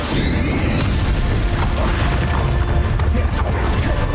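Bombarda blasting-spell explosion in the Hogwarts Legacy video game during a final boss fight, a loud, dense burst of booming, crashing noise that fills the whole stretch without letup.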